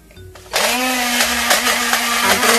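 An electric blender whirs up to full speed and holds a steady, loud grinding drone while blending a dipping sauce for mussels, following a short quiet moment before it switches on.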